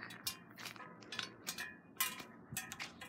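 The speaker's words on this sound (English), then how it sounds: "What you're hearing is my headphones clinking against my water bottle." Light, irregular clinks and taps of headphones against a water bottle in a park, faint and scattered over a quiet background.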